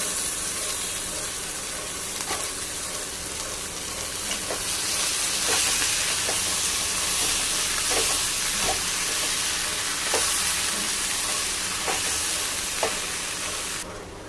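Boiled peas tipped into a pan of masala-fried potatoes for ghugni hiss in a continuous, fairly loud sizzle, with occasional soft clicks and scrapes of stirring scattered through it and no voices.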